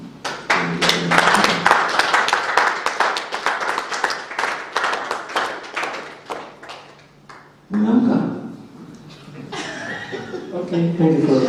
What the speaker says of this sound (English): we can give Mr. Mori a round of applause as he sits down